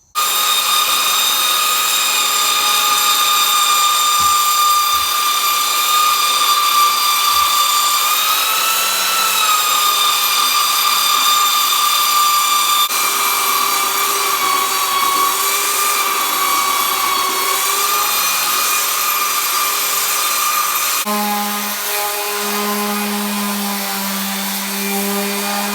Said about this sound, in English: Alright, so I got one side of our slab completely sanded down.